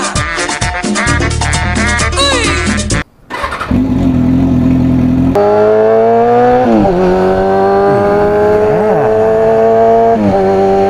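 A Kawasaki ZX6R sport motorcycle being ridden, its engine whining and revving loud and close with pitch sweeping up and down through gear changes, after a brief burst of other loud sound and a short dropout.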